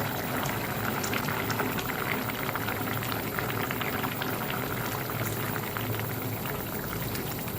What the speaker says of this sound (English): wait until the coconut milk just comes to a boil